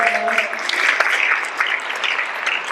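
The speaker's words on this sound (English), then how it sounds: "Big round of applause" A rally crowd at a church-hosted political event in Columbus breaks into applause, a close, lively wash of clapping that carries steadily from start to finish.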